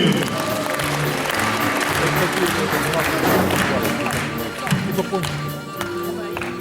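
Audience applause greets a performer at a Kazakh culture evening, a dense steady wash of clapping with some crowd noise that fades slightly near the end.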